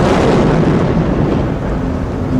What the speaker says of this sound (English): There was a huge explosion, rocked the general area, and a big cloud of smoke came up that engulfed the entire building.